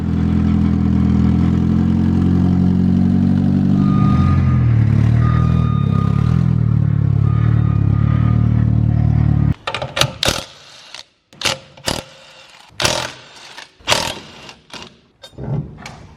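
A Mitsubishi CE Lancer engine runs with a steady low drone for about nine seconds while the car is turned around, then cuts out and gives way to a series of loud, irregular clattering knocks.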